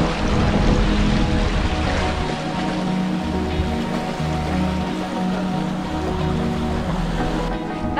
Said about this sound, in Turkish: Kusura bakmayın, yavaşlatıyoruz tekneyi biraz paletlerde ama.